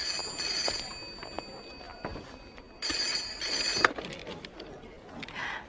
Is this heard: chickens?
no